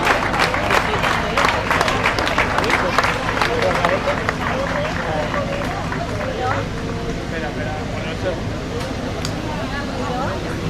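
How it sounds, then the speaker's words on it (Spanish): At an outdoor prize ceremony for a beach footrace in Almenara, a crowd applauds the cadet category winners. Loud clapping rises early, then settles into a steady patter with crowd chatter and voices underneath. "fuerte aplauso."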